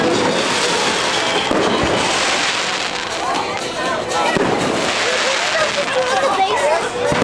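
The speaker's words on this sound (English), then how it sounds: "Who knew they still did the fireworks?" Fireworks bursting over the Myrtle Beach Pelicans minor league ballpark, a continuous barrage of booms and crackles heard from nearby, with crowd chatter and voices underneath.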